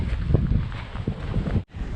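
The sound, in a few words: wind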